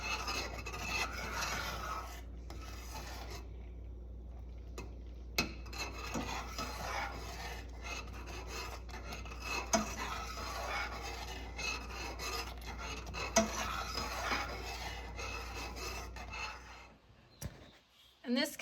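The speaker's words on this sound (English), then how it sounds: "Just gonna keep stirring it while it boils for another minute or so." Scraping of a spoon through a thick, bubbling dessert mixture boiling in a pot, a continuous close rasping rub with faint bubbling, steady and fairly quiet.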